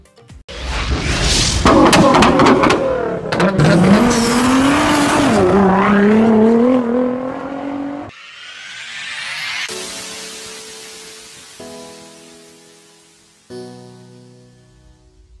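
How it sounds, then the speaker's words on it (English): Ferrari F40 sports car engine revs hard and loud, pitch rising and falling through several surges, followed by quieter passing and driving sounds with brief cuts between segments. "Today, we're peeling back the cover on a car that needs no introduction, the legendary Ferrari F40."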